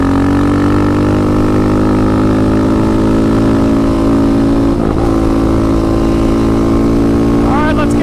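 A Yamaha Raptor 700 ATV, built to 734, runs on VP 110 race fuel with a loud, steady engine drone close by, pitch climbing slightly toward the end.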